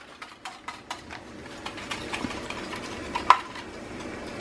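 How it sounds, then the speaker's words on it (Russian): Custard cream being stirred in a saucepan on the stove for a Polish Karpatka choux cake, with soft repeated scraping and light metallic taps of the utensil against the pan, fairly close and without talk. "и все время помешиваю"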